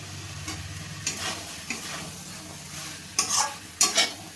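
Chicken and boiled chickpeas are stir-fried with spices in a home kitchen, giving a low steady sizzle with scattered scraping stir strokes that sharpen into louder clanks near the end.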